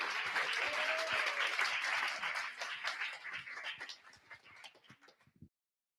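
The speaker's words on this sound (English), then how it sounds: "I would need a big round of applause for Andrey." A meetup audience at a Python gathering claps in a sustained, dense round of applause that gradually thins out and stops after about five seconds, moderately distant.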